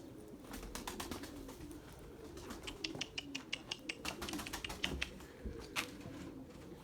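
Pigeons in a loft, with soft cooing and a rapid series of sharp clicks and flutters from nearby birds, moderately quiet against a low background rumble.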